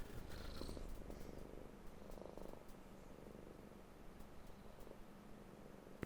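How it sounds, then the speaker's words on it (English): A cat purrs steadily and softly throughout, a low continuous rumble with a quiet room hush around it. "Just listening to the cat."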